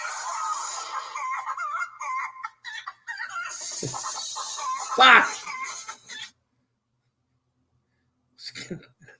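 A phone ringtone playing a tune, a loud, bright electronic melody that runs for several seconds, then stops and starts again briefly, with a voice in the background.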